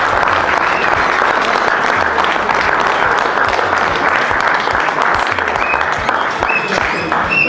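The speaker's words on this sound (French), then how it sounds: "J'aimerais également demander à l'audience d'applaudir pour notre maman Mabri" An audience applauds loudly at a surprise birthday party for Brigitte, continuous dense clapping from a crowd filling the whole stretch.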